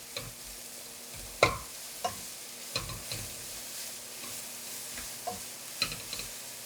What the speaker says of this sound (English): And you just want to stir fry it until it's cooked.